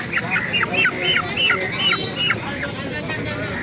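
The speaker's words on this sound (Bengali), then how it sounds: "এই মুরগিটা দেখেন তো মামা।" Chickens at a market poultry stall give a run of repeated squawking, honking calls in short bursts, fairly close, over a steady background hum of the market.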